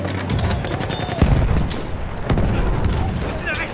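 Grenade explosion in Battlefield 1 amid a ballroom firefight, a heavy boom near the middle among rapid gunfire bursts and clattering action, loud and close, with voices calling out over the combat.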